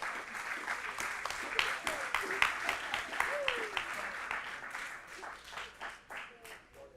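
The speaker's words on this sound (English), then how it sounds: "Let's give them another round of applause." Audience applause at a school board meeting, steady mid-level clapping that tapers off toward the end, with faint voices and chatter mixed underneath.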